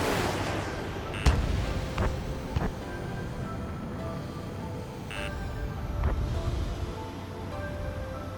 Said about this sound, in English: Missile. Missile. Strider 1, target destroyed.